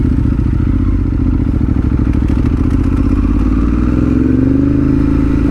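Motorcycle on the road, close and loud, engine note climbing and falling as it accelerates through the gears, with rising revs toward the end.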